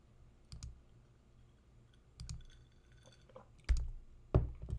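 A computer mouse clicks on gallery images in a quiet room, with four or five crisp, separate clicks spread unevenly over a few seconds.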